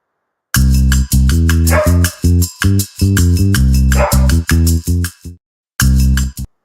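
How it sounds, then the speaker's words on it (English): Dogs bark loudly and repeatedly nearby, a dense run of harsh, clipped barks with a couple of brief gaps. "If you're just tuning in and you hear all the barking"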